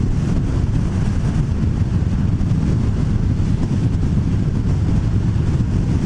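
A 2020 Harley-Davidson Fat Boy 114 (FLFBS) cruising in sixth gear at 70 mph and about 2400 rpm gives a steady, loud low engine rumble mixed with heavy wind roar, continuous and unbroken with no talk.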